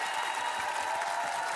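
Studio audience applause on a French game show after a contestant shows a hidden talent: a dense, steady wash of many clapping hands, even and sustained throughout with no pauses.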